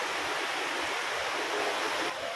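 Labasin waterfall pours in a steady, loud broadband rush of falling water, close and continuous with no voices.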